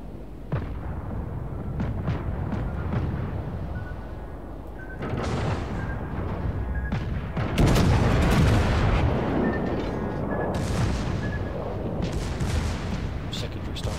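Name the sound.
warship secondary guns firing in World of Warships video game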